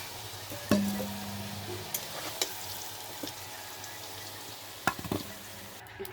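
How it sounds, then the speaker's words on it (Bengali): Potatoes fry in oil in a pan over a wood fire, a soft steady sizzle broken by a few sharp clinks and knocks of utensils against the pan. "আলুটা ভাজা হয়ে গেছে এবার আমরা আলুটাকে তুলে নেব একটা একটা করে"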